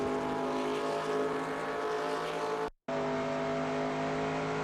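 A stock car engine in the racing game NASCAR Racing 2002 drones at a steady high pitch on the Charlotte oval. The sound is loud and continuous, cut off by a brief silent gap before resuming.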